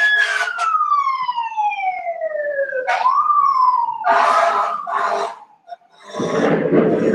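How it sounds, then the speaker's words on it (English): A loud ambulance siren wails close by, sweeping down and up in long tones, with bursts of noise breaking in near the end. "Okay, there's an ambulance."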